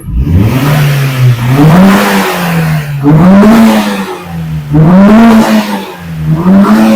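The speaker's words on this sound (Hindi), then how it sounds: "इसमें एक्सीलेटर भर भर के इस तरह देंगे" A Suzuki Cultus engine revs up and down repeatedly as the accelerator is pressed in a rhythmic cycle of surges, loud and close, with no one talking.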